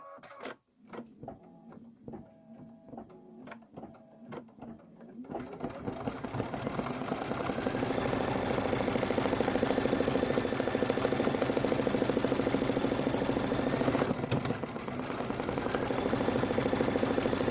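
A Kimberbell embroidery machine stitches the tack-down on a Halloween bench pillow block, starting after a few quieter seconds of faint handling and then running as a loud, steady, rapid mechanical stitching drone close by.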